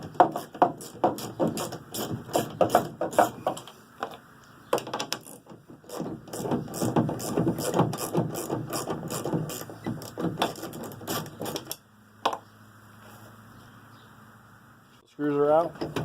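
An 8mm socket and ratchet back out the tail light screws on a 2015-2017 Ford F150, with rapid bursts of close clicking ratcheting in repeated runs, pauses between them and a short scrape near the end.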